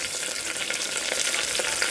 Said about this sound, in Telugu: తాలింపులో పసుపు.